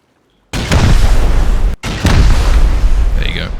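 Rockets blasting a turret in the video game Rust: two heavy, loud explosions in close succession, each with a booming rumble that fills the clip, the second following a brief cut.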